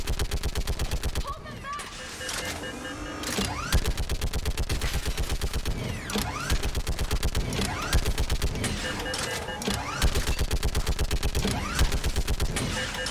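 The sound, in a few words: mounted turret gunfire in Mass Effect 3 video game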